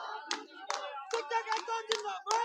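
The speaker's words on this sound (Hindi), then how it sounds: "किस तरीके से ये अपनी कतारबद्ध होकर ताली बजाते हुए और विरोध प्रदर्शन सरकार के विरुद्ध करते हुए" Protesters standing in rows clap in unison against the government, a series of sharp, evenly spaced claps about twice a second, close and fairly loud, with voices chanting or calling between and over the claps.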